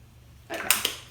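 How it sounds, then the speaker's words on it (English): Makeup setting spray misted onto a face during a makeover, heard as a short soft hiss that starts abruptly and then comes as a couple of quick, slightly louder bursts, close and alone. "It's setting spray."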